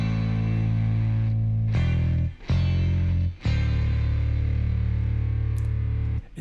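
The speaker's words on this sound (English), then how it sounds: "Then you add in the bass, which is fully MIDI in this track." A MIDI bass line plays solo as sustained, buzzy low synthetic notes that change pitch a few times with short gaps between phrases.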